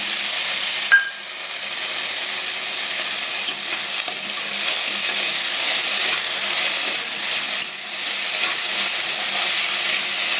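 Tomato sizzles in a pan of frying curry, a steady hot crackle with soft scraping of a spoon stirring through it, alone and close with a brief clink near the start.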